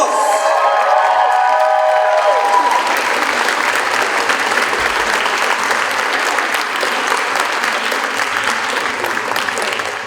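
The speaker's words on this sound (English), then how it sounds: "A big round of applause!" Applause with some cheering from a crowd at the Kitacon Returns 2022 awards ceremony, loud and sustained, following a voice at the start and holding steady before easing slightly at the end.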